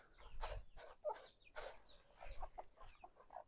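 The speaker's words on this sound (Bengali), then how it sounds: "এখন আমাদের মুরগিগুলোর জন্য খাবার নিয়ে এসেছি, দেখেন সবাই এখানে এসেছে" Chickens being fed cluck close by in a quick series of short, irregular calls, fairly soft and with no talk over them.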